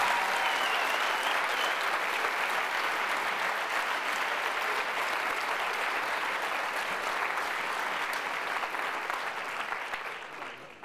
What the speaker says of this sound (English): give John a round of applause